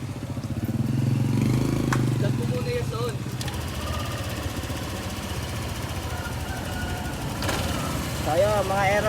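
Motorcycle engine running after an error 12 check engine fault, a close, loud, rough idle with knocking texture throughout, with brief metallic clanks and someone talking over it near the end.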